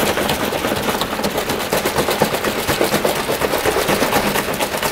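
A bottle holding an algae sample and fertilizer is shaken hard, giving a steady, rapid rattling slosh that repeats for several seconds, loud and close.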